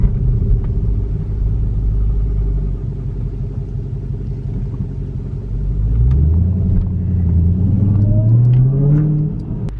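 A Dodge Charger Hellcat with a stock intake idles with a deep steady rumble, then revs up, its supercharger whine rising audibly in pitch over the last few seconds, close and alone.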